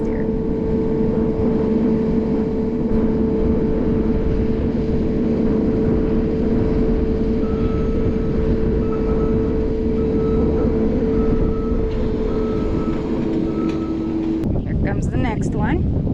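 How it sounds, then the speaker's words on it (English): A skid steer loader's engine runs steadily on a farm where goats and hay are moved, giving a continuous mid-pitched drone with a faint whine that shifts in character near the end. "Yes, we all very much like this skid steer."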